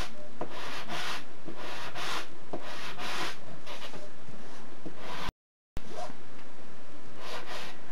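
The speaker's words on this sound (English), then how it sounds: "when you sand it, you want some of your colors to come off" Sandpaper rubs over a painted surface to wear back layers of color for a faux linen finish, in steady back-and-forth strokes that are close and fairly loud, with one brief break near the end.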